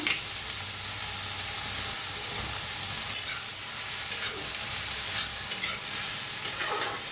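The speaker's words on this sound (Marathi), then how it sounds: "त्याच्यात टाकूया धनं आणि जिरं ते बी भाजून घ्यायचं" Black pepper, cinnamon, cloves, coriander seed and cumin dry-roast in a pan beside onion, tomato, garlic and cashews, giving a loud continuous sizzle broken by repeated spatula scrapes and stirs.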